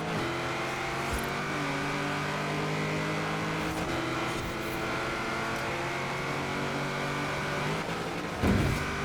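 A Cadillac limousine engine droning steadily at high revs during an online race in Forza Horizon 4, a loud continuous motor whine with slight pitch shifts and a short thump near the end.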